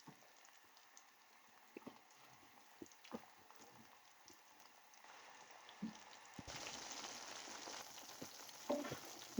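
KFC-style coated chicken goes into hot oil for deep-frying, producing a soft, quiet bubbling crackle with scattered pops that swells louder and denser near the end; no one speaks.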